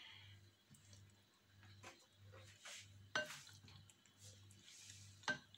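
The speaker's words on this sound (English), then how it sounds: "we are just making sure that we get sauce everywhere on the salad" Pasta salad with tuna and sauce is stirred in a bowl, with faint, soft clinks and wet scraping of a utensil against the dish over a quiet, rhythmic low hum, no talking.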